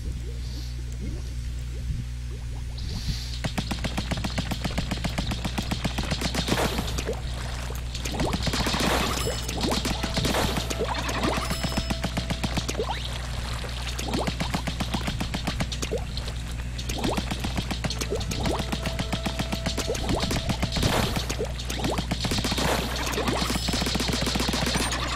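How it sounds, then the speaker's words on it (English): Rapid squelchy ink-weapon fire from Splatoon online multiplayer plays in repeated bursts over a steady game soundtrack, with wet splattering and dripping sounds between the volleys. "Test this weapon now."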